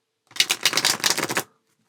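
A quick riffle of a deck of oracle cards being shuffled, a single dense flutter of rapid card flicks lasting about a second, close and fairly loud, with no speech.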